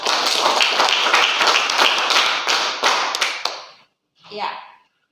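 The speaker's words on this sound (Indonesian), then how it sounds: "Tepuk tangan dulu buat kelompok 1" Classroom applause for a student group during a teaching session, a burst of close, dense clapping lasting about three and a half seconds before tapering off, followed by a brief short sound after a pause.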